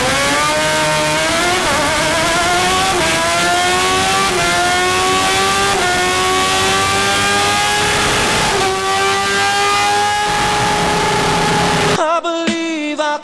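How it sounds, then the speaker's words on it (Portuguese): A Kawasaki Z1000 sport motorcycle fitted with a racing kit revs hard and climbs through several gear shifts to top speed, loud and close, its pitch rising again after each shift before cutting off abruptly. "agora vocês vão ver a moto arrancando e a moto pegou a velocidade máxima"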